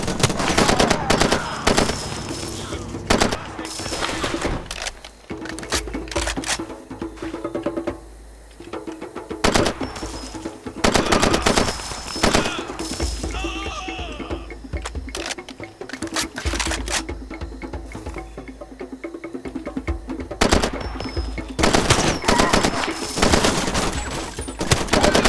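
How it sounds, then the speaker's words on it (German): Gunfire in the video game Far Cry 2 rattles in repeated dense automatic bursts across the whole stretch, loud and close, with brief pauses between volleys and occasional muffled voices underneath. "wir schießen scharf"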